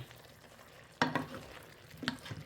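Vegetables including canned corn and carrot are stir-fried in a pan for a Thai dish, with a soft, steady sizzle and two sharp spatula scrapes about a second apart.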